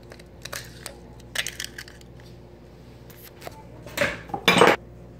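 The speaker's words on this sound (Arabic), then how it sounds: "ادي البيضه اهو هكسره معاكم" A few sharp cracks and clinks as eggs are cracked into a bowl, the last two louder and closer together, with soft handling noises between.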